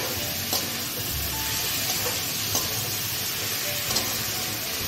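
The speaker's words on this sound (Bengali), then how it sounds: "এটা একটু কষিয়ে নেব।" Shukto vegetables sautéing in a pan with spices, a dense continuous sizzle and hiss with a few soft stirring knocks, close and steady with no talk.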